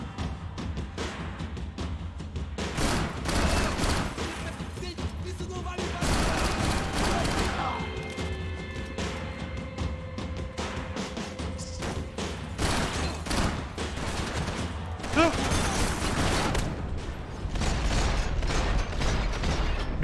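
Video game gunfire comes in loud, close bursts of rapid shots, broken by mechanical clicks and ratcheting clatter, with short pauses between volleys.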